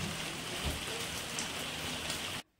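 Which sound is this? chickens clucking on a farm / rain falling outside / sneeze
rain falling outside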